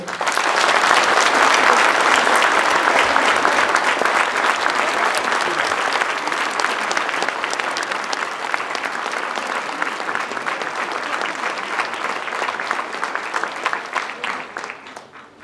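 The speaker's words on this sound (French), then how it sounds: "j'aimerais qu'on puisse l'applaudir quelques secondes, s'il vous plaît" Sustained audience applause at a mayor's New Year address in Notre-Dame-de-Gravenchon, a dense steady clapping that lasts about fifteen seconds and tapers off at the end.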